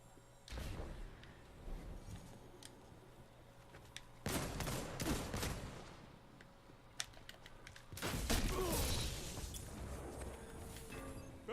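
Bursts of gunfire from the video game Destiny 2, three dense volleys of rapid shots separated by brief lulls, fairly loud with clattering mechanical noises mixed in and no voices.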